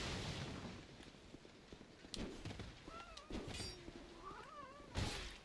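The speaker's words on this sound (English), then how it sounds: "Cats, don't fight right now." Cats squabbling nearby, with sharp meows and yowls breaking through over a few seconds amid scuffling thumps and bursts of background noise.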